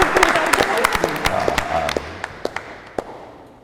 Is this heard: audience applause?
yes